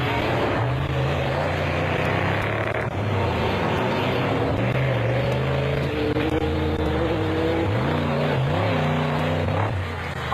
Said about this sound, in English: The Woolridge Skolthammer V8-powered Ford sounded strong.